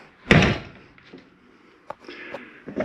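A door on a 2022 Jayco Eagle 29.5 BHDS camper shuts with one loud, close slam, followed by quieter clicks and knocks nearby.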